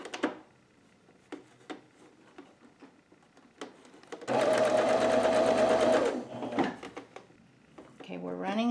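A sewing machine stitches an ear loop onto a face mask made from a T-shirt, running in one loud, steady whirring burst of about two seconds. Soft handling clicks come before it, and a voice follows it.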